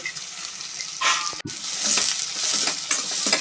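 Onions and green chillies frying in a kadai, with a bright close sizzle broken by stirring scrapes and clinks. There is one sharp knock partway through and no talk over it.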